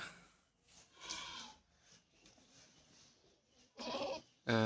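A goat on a farm bleats in several short, nasal calls, fairly near, with quiet rustling between them and a louder, wavering bleat at the end.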